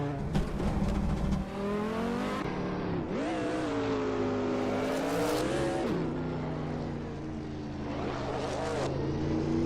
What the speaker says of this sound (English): Hingle McCringleberry is driving a 1990 Mercury X R4 Ti